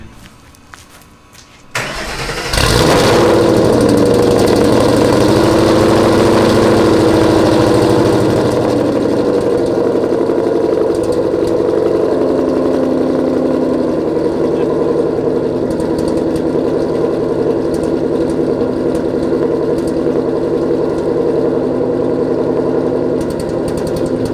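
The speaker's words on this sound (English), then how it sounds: "we'll start it up because I haven't started it in like, I don't know, two, weeks, three weeks, however long it's been" A car fitted with a replaced BC Racing coilover shock, unstarted for two or three weeks, cranks briefly and catches, then settles into a loud, steady, slightly rough idle that continues alone at close range.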